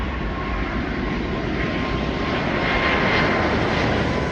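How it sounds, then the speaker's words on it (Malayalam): A large British Airways airliner in oneworld livery passes overhead, its broad steady engine roar swelling slightly toward the end, loud and continuous with no voices. "ഇത് വലിയൊരു ഫ്ലൈറ്റ് ആണെന്ന് തോന്നുന്നല്ലോ."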